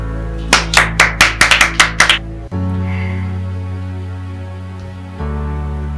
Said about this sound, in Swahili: Makofi jamani